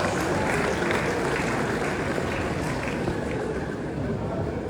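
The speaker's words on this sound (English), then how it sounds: "Please let's give him a big round of applause." Crowd at a Lagos gala event applauds Governor Babajide Sanwo-Olu, a steady, moderately loud wash of clapping throughout with some indistinct voices mixed in.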